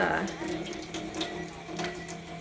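Alkaline water from a water ionizer tap pours steadily in a close, splashy stream, with faint intermittent background sounds.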